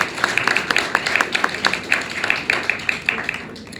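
A small ceremony audience claps for an honoree, individual claps distinct and close, forming a loose uneven rhythm that thins out toward the end.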